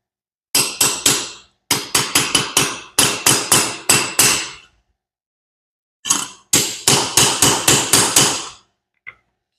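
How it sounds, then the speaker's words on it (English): Close, sharp hammer taps on a steel turbo intake elbow come in quick bursts of several strikes, separated by short pauses, ending with one light tap. "May have to tap it in with the hammer."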